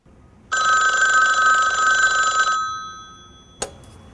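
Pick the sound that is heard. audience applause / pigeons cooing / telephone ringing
telephone ringing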